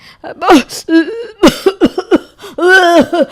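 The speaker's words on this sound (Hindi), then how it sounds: "बार बार खांसी आ रही है ना" A person coughs repeatedly and clears their throat in several harsh, close bursts, mixed with strained vocal sounds.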